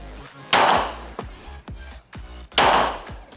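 Two loud, sharp 9mm pistol shots about two seconds apart at paper targets, each ringing with a short echo, with fainter clatter and thuds between them.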